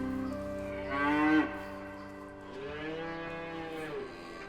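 Cattle in a video game low two long, drawn-out moos back to back, the first louder and rising, the second lower and steadier, with no talking.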